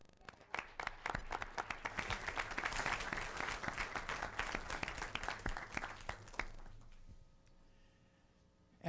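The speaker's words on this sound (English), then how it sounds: "One more round of applause" Audience applause at a school board of education meeting, with steady clapping from a crowd that swells in the middle and tapers off to quiet near the end.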